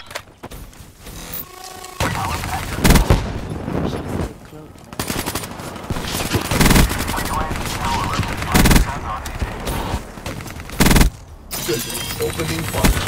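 Gunfire in Call of Duty Black Ops III, with loud bursts of automatic fire and single shots repeating across the clip, mixed with game effects and intermittent voices.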